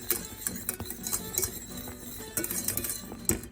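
A whisk scrapes and clinks against a pan of thickening lemon curd on a cooktop, making quick uneven metallic ticks with brighter clanks every second or so, close and fairly quiet, with no talking.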